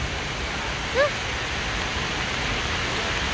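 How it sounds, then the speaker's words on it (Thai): Heavy rain falling outdoors at a repair garage, a constant dense close hiss with a brief faint voice-like blip partway through. "เราพากันไปยืนในฝนสาด"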